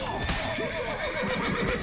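A horse in the video game The Witcher 3: Blood and Wine gives a loud, wavering neigh over busy game noise and music.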